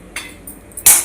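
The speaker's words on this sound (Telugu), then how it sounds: "కొంచెం దాల్చిన చెక్క ఉంటుంది కదా, అది కొంచెం కచ్చాపిచ్చే దంచి వేసేసుకోవాలి" A cinnamon stick is coarsely pounded for a stuffed brinjal curry, two or three sharp hard knocks, the last one loudest, close and alone.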